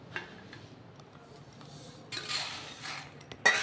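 Golden-brown roasted raw rice is poured from a pan onto a metal plate, a quiet scrape and tap followed by a brighter, close rushing patter of grains lasting about a second, ending in a few sharp clinks.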